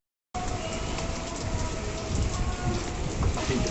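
Rain falls outdoors in a steady, heavy wash. It starts abruptly and holds close and loud throughout, with a faint low rumble beneath.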